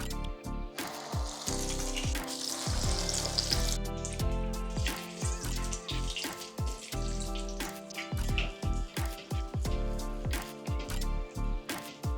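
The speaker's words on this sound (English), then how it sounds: "finish frying up the rest that you have." Battered chili relleno peppers fry in hot oil with a loud, continuous bubbling sizzle, broken by bursts of crackling and spattering. No voices are heard.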